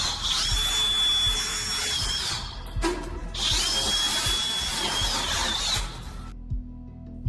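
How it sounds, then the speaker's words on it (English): A power drill grinds through a door lock in loud bursts, the motor whining high while the bit judders, pausing briefly mid-way before a second long run that cuts off near the end. "staff began drilling through the lock to grant them access"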